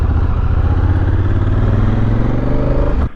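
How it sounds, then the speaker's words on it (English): Honda Africa Twin motorcycle idling and running steadily up close, a continuous loud engine drone with a faint rising pitch toward the end before cutting off abruptly. "AT's all loaded up, about to hop on it, go for a ride"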